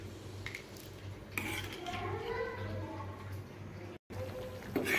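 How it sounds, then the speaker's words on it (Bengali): A spoon clinks and scrapes inside a pot of simmering sweet potato payesh as sugar is stirred in, a few close metallic knocks over a low steady kitchen hum. "চিনিগুলোকে ভালোভাবে মিশিয়ে আমি আরও একটুক্ষণ ফুটিয়ে নিচ্ছি"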